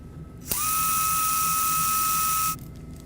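A surgical power drill bores freehand and eccentrically into metatarsal bone during fracture plating, giving a loud, steady high-pitched whine that starts abruptly, holds for about two seconds and then stops, with no other sound.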